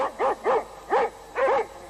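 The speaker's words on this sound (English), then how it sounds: "They yapped back at her." Cartoon dogs yap back in a handful of short, bright barks spaced across about two seconds, loud and close with no talk over them.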